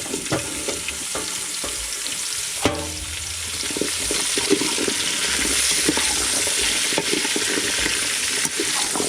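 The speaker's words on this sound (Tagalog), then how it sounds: "Nagigisa na ako ng sibuyas bawang luya." Onion, garlic and ginger sauté in a pan for chicken tinola, a loud close sizzle and frying crackle with occasional clanks of a stirring utensil, and no talking.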